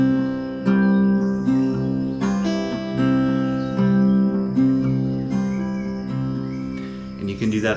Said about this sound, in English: So if we do that with the whole finger picking pattern, it'll sound like this.